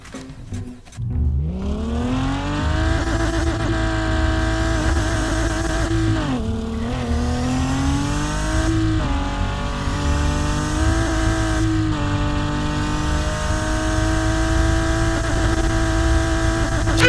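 A 400-horsepower car engine in the racing game REVHEAD, loud and close, revving hard and climbing in pitch through several gear changes with brief dips between shifts, sustained throughout with no talking.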